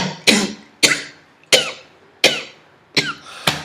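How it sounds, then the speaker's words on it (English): A man coughs six times in a steady rhythm, each cough sharp, loud and close, with brief quiet gaps between them. "this cough, I know what it is"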